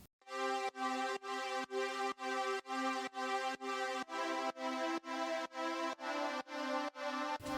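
A Brass Knuckles synth chord preset with a synthwave texture plays about a dozen evenly spaced sustained chords in a steady rhythm, each cut off sharply before the next, loud and alone with no voices.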